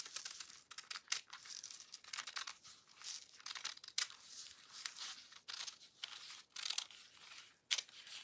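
Paper being cut with scissors for a decoupage wooden tag: quiet, close, irregular snips and crinkles repeating steadily throughout, with no talking.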